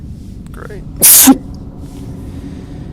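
A single sharp, loud sneeze bursts out near the mic during a tabletop role-playing game session, with a quiet voice just before it and faint background hiss.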